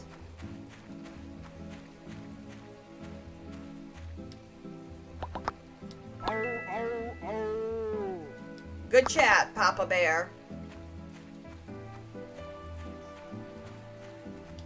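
Pouring rain in a video game patters steadily throughout, with game music and effects layered in and a person talking over it.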